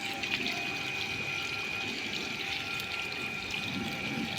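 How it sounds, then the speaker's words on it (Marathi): A makeshift motor pump draws water out of a swimming pool, producing a steady, even whir and rush of flowing water that continues unbroken and at moderate volume, with no talking. "अशा प्रकारे आपला मोटरचा कारभार चालू झालेला आहे बघू शकता अशा प्रकारे पाणी त्याला सुरुवात झालेलीच आहे"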